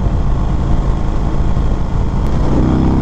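2021 Indian Springfield Dark Horse motorcycle with a 116 cubic inch V-twin building speed on a ride, a steady, loud low engine drone with broadband wind rush filling the whole stretch, no pauses.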